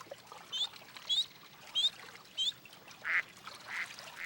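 Soft, distant cartoon duck quacks repeat at a steady rhythm, five or six short calls over a quiet watery background.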